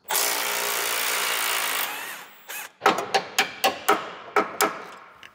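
Impact gun removing lower control arm bolts on a Buick Grand National: a long continuous whirring burst, then a quick series of about eight sharp rattling hammer pulses, loud and close, with no talk.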